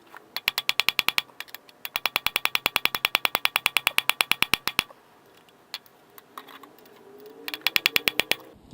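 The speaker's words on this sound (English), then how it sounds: "We're going to be installing the pilot bushing now" Ratchet tool driving in a clutch pilot bushing during a clutch swap, rapid bursts of sharp metallic clicks, loud and close, pausing between runs with scattered single clicks before a final burst.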